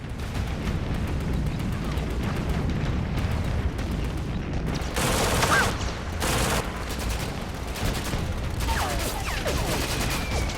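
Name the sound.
gunfire and grenade explosions in WWII documentary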